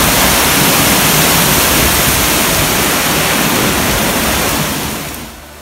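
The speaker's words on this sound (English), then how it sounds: "We are now behind the waterfalls." A loud, steady roar of falling water heard from behind the waterfall at Monasterio de Piedra fills the whole stretch, broadband and unbroken, then fades slightly near the end.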